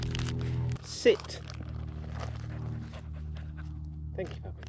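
Puppies on a muddy riverbank while biscuits are handed out, giving a short whimper and soft panting, with a person talking and low steady engine-like hum fading early.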